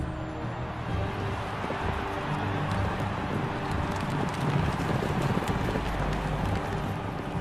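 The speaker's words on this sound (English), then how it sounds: "chariot thunder to victory." Dense rumbling hoofbeats and wheels of racing horses, a continuous loud wash of pounding with wind-like noise and no speech.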